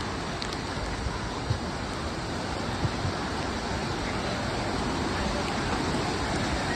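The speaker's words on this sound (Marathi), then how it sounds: "खूप सारे धबधबे, पाणी पाहू शकता कसं भयानक वाहत आहे खाली।" Waterfalls at Tamhini Ghat rush during the monsoon in a steady, unbroken roar of broadband water noise.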